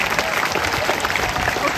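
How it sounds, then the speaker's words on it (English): Dense, loud applause from a large commencement audience honouring the graduates' parents, a continuous wash of many hands clapping close by, with crowd noise mixed in. "Can we please give the parents a round of applause?"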